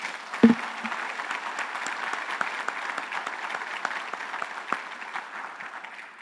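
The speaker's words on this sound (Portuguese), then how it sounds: "Vamos aplaudir eles lá, em nome de Jesus, né?" A church congregation at Alcance Pinhais claps together during a Sunday service, a soft continuous patter of many hands sustained for several seconds at a modest distance.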